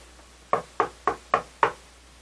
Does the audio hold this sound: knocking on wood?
yes